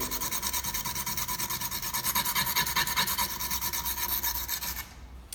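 A BTB auto glass scraper blade being sharpened: a fast, regular rasping scrape repeated many times in quick rhythm, close and fairly loud, stopping near the end.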